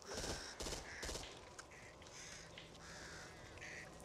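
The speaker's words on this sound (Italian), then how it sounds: "I corvi, aspetta." Crows cawing in the video game Zombieland, several harsh caws repeating at moderate distance over a quiet ambient background.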